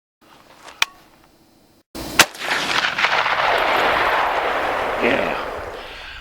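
Ruger Mini-30 rifle fire outdoors in Nevada: a sharp crack stands out early, then a loud blast rolls into a long echoing boom that lingers for several seconds.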